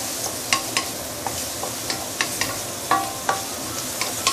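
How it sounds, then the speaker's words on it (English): King oyster mushrooms stir-fried with ginger over a smoking-hot fire, a constant loud sizzle punctuated by regular spatula clacks and scrapes against the pan, close up and without speech. "Can stir fry your king oyster mushroom a little bit to remove its earthy smell."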